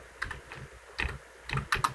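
Keys clatter on a computer keyboard as an SQL insert command is typed, short bursts of quick taps separated by brief pauses, close and clear with no talking.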